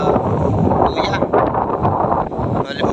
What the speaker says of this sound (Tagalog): Ito, malakas ang hangin dito.